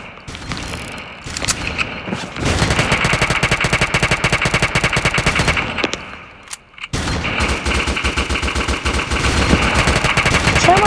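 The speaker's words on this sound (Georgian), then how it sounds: "აქ დაიწყება სროლები" Rapid automatic gunfire from a video game shooter, loud and dense, in long sustained bursts with a brief lull before the shooting resumes.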